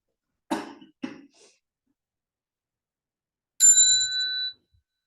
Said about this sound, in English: in a minute, Fee will ring the bell